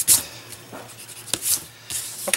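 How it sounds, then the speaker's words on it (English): A pencil eraser rubs across paper on a small faux book storage craft, giving short scratchy strokes in a few bursts, close and fairly quiet. "I'm going to go ahead and erase this"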